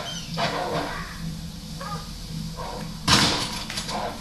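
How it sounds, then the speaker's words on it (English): Dogs barking in the video game Red Dead Redemption, several sharp barks and yips at moderate distance, with a louder thud-like burst partway through. "Dogs are after me."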